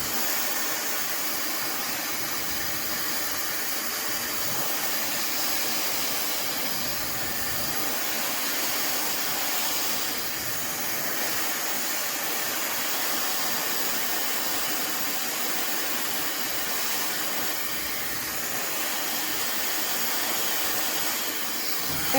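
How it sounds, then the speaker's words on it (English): Fentgo ionic high-speed hair dryer running on its medium setting while drying hair, producing a steady, loud, close airy whoosh that continues without a break and with no talk. "So I'm going to put it to medium and continue drying my hair"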